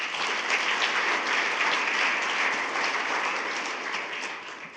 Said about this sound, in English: So if you wouldn't mind giving those 2 schools another round of applause.